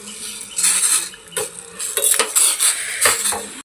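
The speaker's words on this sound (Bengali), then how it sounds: "এই বাটিটার মধ্যে ইপি ম্যাগি রান্না হবে।" Clinking and scraping of utensils in a bowl while Maggi noodles are prepared, with repeated close metallic taps and stirring sounds, no talking.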